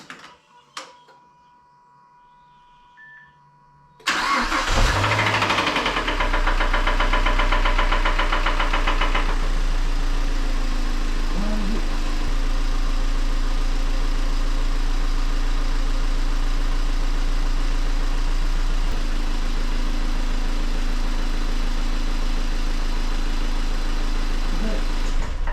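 A Mazda MX-5 MK3 engine cranks and fires after an engine flush, then settles into a steady, close idle with a faint ticking rattle, following a few seconds of quiet with brief talk.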